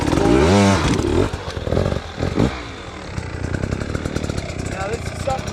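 An enduro dirt bike engine on a hard enduro training ride revs loudly with sharp throttle blips and rising, falling roars that settle into a steady rough idle, while someone talks over it.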